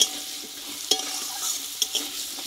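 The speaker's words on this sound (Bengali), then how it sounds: "আলুটা কিন্তু তেলে ভালোভাবে আমি কষিয়ে নিয়েছি" Potatoes fry in oil with turmeric and salt, giving a soft continuous sizzle broken by a few sharp scraping stirs of a utensil against the pan.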